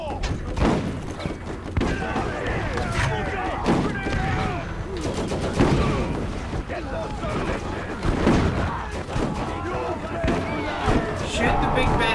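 Dense, rapid gunfire and thumping impacts from the Borderlands Remastered shooter, with bursts of automatic fire and booms packed closely together throughout.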